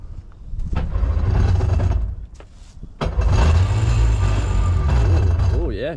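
A Bombardier Challenger jet boat engine cranks and catches, a loud throaty rumble that dips briefly, then restarts and runs steadily, with a voice talking underneath near the end.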